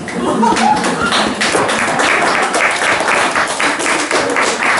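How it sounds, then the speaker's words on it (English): A small gathering claps for students being introduced, a close, even patter of many hands running throughout, with faint voices mixed underneath. "I think a big round of applause"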